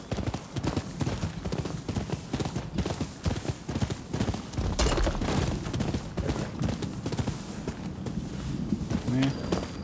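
Steady clip-clop of horse hooves walking over uneven, stony ground in the video game Rise of the Ronin, repeating throughout beneath someone talking over it.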